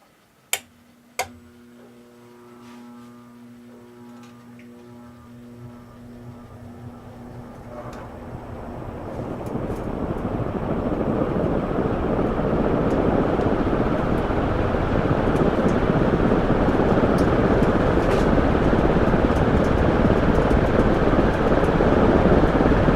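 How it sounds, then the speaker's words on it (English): A steady, broadband whirring drone builds after a couple of sharp ticks and holds loud and constant to the end as a ceiling fan spins up nearby. "this ceiling fan"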